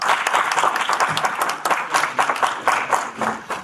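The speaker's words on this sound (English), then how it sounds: "Just give an applause for them." Applause from the audience at a live cricket league player auction, dense and steady hand clapping from many people at close range that rises and falls in waves, with some speech under it.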